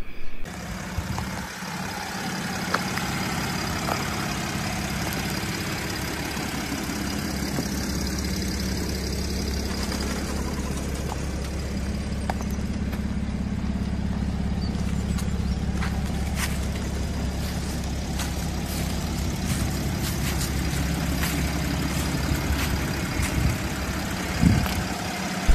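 The 2005 Jeep Grand Cherokee WK CRD diesel engine idles in an open engine bay with a steady low rumble, joined by some light clicks and rattles.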